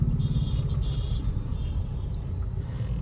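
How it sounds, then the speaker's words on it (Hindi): Heavy road traffic in Kharghar, Navi Mumbai, a continuous low rumble of passing cars and trucks with faint brief tones above it. "बहुत ट्रैफिक है, लोगों पूरा भरा है खारघर।"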